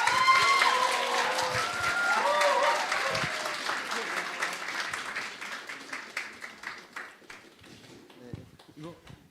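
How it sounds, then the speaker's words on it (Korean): An indoor lecture audience at Kim Dae-jung Hall in Daegu claps warmly, starting as dense full applause that gradually thins into scattered individual claps over about nine seconds, with no talk. "우리 박구영 교수님 나오실 때 뜨거운 박수로 환영해 주십시오"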